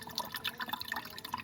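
Water trickles and drips from an overheating Hyundai Accent CRDi engine into a container during an overhaul, a faint, irregular patter of small droplets with no talking.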